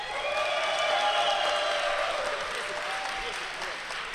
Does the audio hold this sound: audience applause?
yes